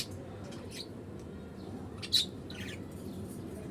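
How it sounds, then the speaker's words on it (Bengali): Pet birds kept in a home aviary chirp in a few short, high, thin bursts over a quiet room hum, with one brief louder call near the middle. "এই দেখেন পাখিগুলো, ওদেরকে খাবার দেওয়া হয়েছে।"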